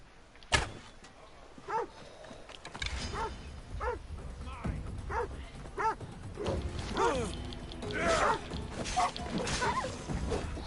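A dog in the Assassin's Creed Odyssey video game gives a series of short barks and yips at a fairly even pace, over game sounds, and ends amid louder clattering.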